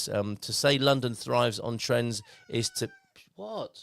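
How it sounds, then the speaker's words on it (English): A pet cat named Jenny gives a short, rising meow near the end, following a man's clear indoor speech. "Sorry, that's my cat"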